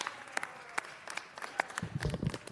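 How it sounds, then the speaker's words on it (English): Scattered, fairly quiet clapping in a city council chamber as the city attorney is honored, with sparse individual claps and a low rumble of the room near the end. "So if you could give a round of applause to Mike Feuer, our city attorney."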